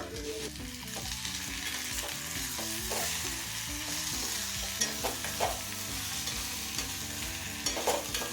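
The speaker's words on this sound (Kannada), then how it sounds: "ಆಲೂಗಡ್ಡೆನ ಎಣ್ಣೆಯಲ್ಲಿ ಸ್ವಲ್ಪ ಫ್ರೈ ಮಾಡಿದಾದಮೇಲೆ ಒಂದು ಟೊಮೊಟೊ ಹಣ್ಣು ಸೇರಿಸ್ಕೋಬೇಕು." Potatoes and tomato frying in oil while being stirred, a constant sizzle under repeated scraping and clinking of a spatula against the pan, with a few louder knocks near the end.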